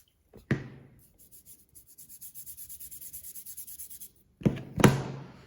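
Chisel being sharpened on an oiled whetstone, switching to the fine side: soft rhythmic rubbing strokes in a steady series, close and quiet, framed by a couple of sharper clacks of the tool against the stone.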